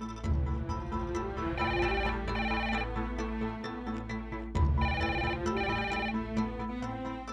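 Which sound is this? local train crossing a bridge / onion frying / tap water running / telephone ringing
telephone ringing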